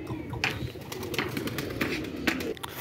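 A pigeon lands and coos in close, soft, repeated low calls, with light fluttering and rustling amid quiet surroundings.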